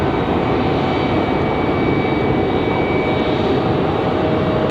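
An ATR turboprop airliner passes at Raleigh-Durham International Airport, its engines producing a loud, steady roar with a faint sustained whine running through it across the whole stretch.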